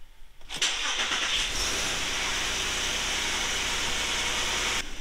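Car engine cranking and catching after an accelerator pedal position sensor replacement, then settling into a steady loud idle with a broad hiss, close to the microphone, no talk.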